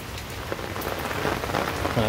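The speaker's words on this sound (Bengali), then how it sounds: "আমি বৃষ্টির মধ্যে ভিডিও করার মজাই আলাদা" Steady rain patters on garden plants and leaves close by after hot weather, a dense, continuous shower of small drops with no voices.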